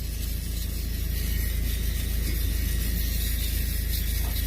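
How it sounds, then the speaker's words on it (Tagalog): An electric mini shaver used for smoothing beard and mustache runs with a steady, close, continuous mechanical buzz that holds at an even level throughout, with no talking. "Mini shaver."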